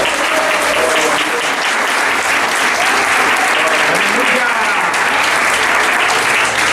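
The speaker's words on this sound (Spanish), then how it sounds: "Denle un aplauso a la gloria del Señor" A church congregation applauds at a Sunday school service, dense, loud and sustained clapping that fills the whole stretch, with crowd voices mixed in.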